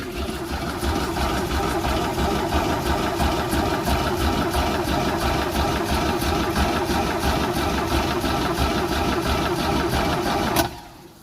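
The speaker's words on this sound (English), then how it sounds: "May take some good amount of cranking power." A 3.0 Mercruiser boat engine runs steadily and loudly with an even mechanical drone and chatter throughout, then cuts off abruptly near the end.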